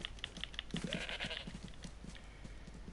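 Goat in DayZ bleating once, a short wavering cry over rapid clicking keys and a faint background hum, with no talking.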